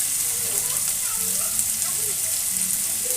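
Onion frying in mustard oil in a pan gives a steady, even sizzle and crackle with a bright hiss, holding a constant level throughout.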